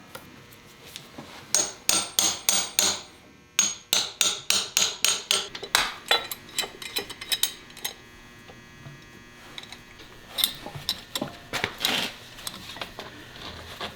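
Repeated sharp hammer taps seat a leaf spring into place on an Omaha Coupe, struck in quick bursts of five to eight blows with short pauses, close and fairly loud against a low background hum.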